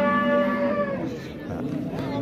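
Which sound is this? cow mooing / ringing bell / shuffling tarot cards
cow mooing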